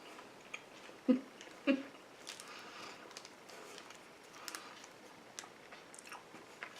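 Someone takes a couple of sharp bites into a crunchy Canadian chocolate-filled candy bar, then chews quietly and steadily close to the microphone, with no talking.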